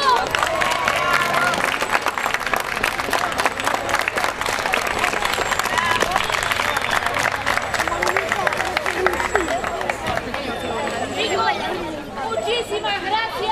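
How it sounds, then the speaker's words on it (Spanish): Sustained audience applause mixed with crowd chatter fills a circus show, loud and dense throughout, with voices talking over the clapping. "¡Y el aplauso!"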